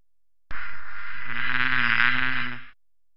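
Close, steady buzzing of a bee, starting abruptly, holding an even drone for about two seconds, then cutting off.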